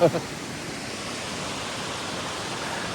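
A mountain stream beside a hiking trail rushes steadily, a continuous close hiss of moving water, briefly under a voice at the start.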